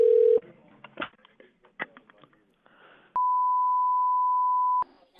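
Telephone dialing tones while calling a coin shop: a short steady tone opens, then a burst of quick button beeps, and later one long unbroken tone lasts nearly two seconds, loud and clear with no talking.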